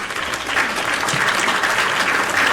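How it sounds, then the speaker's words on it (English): Steady applause from a live studio audience fills the whole stretch, a dense, even clatter of many hands at moderate loudness with no voices over it. "Can we get some applause from our live studio audience?"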